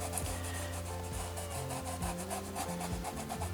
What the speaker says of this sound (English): I want to grab a little bit of this blue and just kind of rub it in here with this black